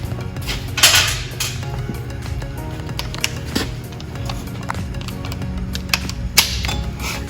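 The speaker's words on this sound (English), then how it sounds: "It is a 13mm socket. Loosen these two bolts." A ratchet with a 13mm socket loosens hinge bolts on the rear tire carrier of a Jeep JK, giving rapid close clicking runs broken by short pauses and a few sharper metallic knocks.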